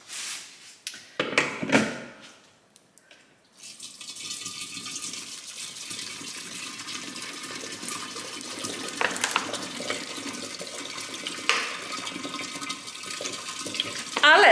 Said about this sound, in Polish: Więc wlewam tutaj wodę niegazowaną, butelkowaną.